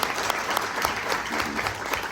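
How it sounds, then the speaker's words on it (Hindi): Audience at a business meeting clapping loudly for newcomers, a short burst of steady, close applause. "चलो एक जोरदार तालियां हो जाए हमारे नए साथियों के लिए।"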